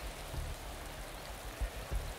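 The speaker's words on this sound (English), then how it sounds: "It's raining. I love the rain." Rain falls in the racing management game Motorsport Manager, a steady soft hiss of rainfall with a few low thumps, faint and continuous.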